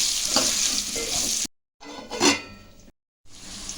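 Okra pieces sizzle loudly in hot oil as they are stirred, a bright steady frying hiss broken by brief scraping stirs and two short cuts to silence.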